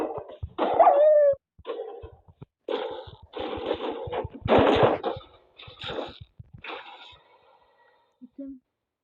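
A dog in a video game raid barks and yips in short separate bursts with brief whimpering calls between them, mixed with a player's talking over the game sounds.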